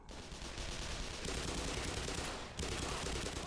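Gunshots in Black Mesa rattle as a dense, rapid stream of loud shots, broken by two short pauses partway through.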